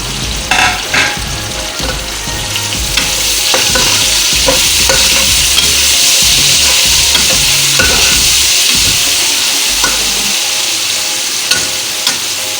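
Ginger and rough-cut onion dropped into hot oil with curry leaves, a loud, close, continuous sizzle with scraping and stirring in the pan, strongest early and settling into a steady hiss, no voices.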